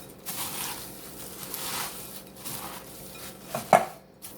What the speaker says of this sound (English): Let me mix these crackers in there first.